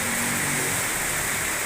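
Heavy rain pouring down in a steady, dense hiss, loud and continuous with no talk.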